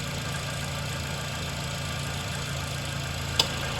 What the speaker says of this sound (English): So now the engine is running, so I'm going to open the EGR.